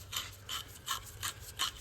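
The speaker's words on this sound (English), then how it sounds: "cleaning out the threads on the side bolts" Bolt threads on a motor mount being cleaned out with a tool, five quick rhythmic scraping strokes, faint and close, with no talking.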